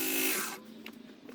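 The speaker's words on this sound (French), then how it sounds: "ensuite je vais détourer avec une petite ponceuse à bande" Small belt sander rough-shaping a handmade folding knife, giving a loud, steady close-up grinding whir that cuts off after about half a second and leaves faint scraping and handling sounds.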